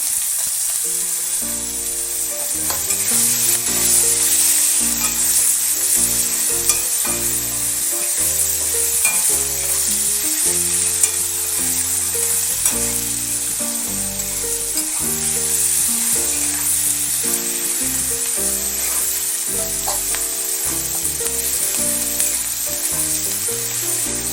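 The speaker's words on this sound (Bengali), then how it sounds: "পেঁয়াজটা একটু ভেজে নেব" Onion frying in a pan with garlic, a steady loud sizzle and hiss running continuously, with background music and no talking.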